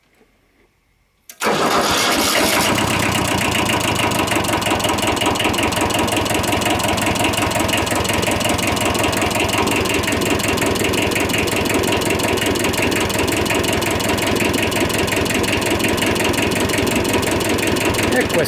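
Warm Kubota diesel engine cranks and starts after a short silence, then runs at a steady, loud idle with a continuous rhythmic knock, close to the microphone.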